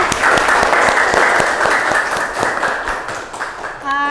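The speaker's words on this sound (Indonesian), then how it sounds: "Kasih aplaus untuk Riansa." Classroom applause for a student, a dense, steady burst of many hands clapping up close for about four seconds before it breaks off abruptly.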